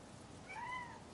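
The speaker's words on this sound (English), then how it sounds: "That was a little wimpy little meow there." A cat gives a short, thin meow, a faint high wavering cry rising briefly above steady low background noise.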